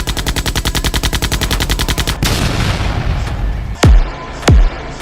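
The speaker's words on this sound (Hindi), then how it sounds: "गोली चलने की आवाज कहाँ से आ रही है?" Animated gunfire at a border: a loud, rapid burst of automatic fire for about two seconds, then scattered shots over a rumbling bed, capped by two heavy booming blasts with descending tails.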